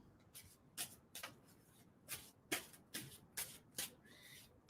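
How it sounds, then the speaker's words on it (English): Playing cards being shuffled by hand, a series of quick riffling bursts repeating at a steady rhythm, close and quiet with no talk over them. "And tell me when to stop shuffling on that."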